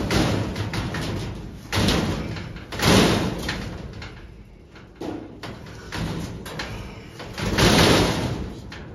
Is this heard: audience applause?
no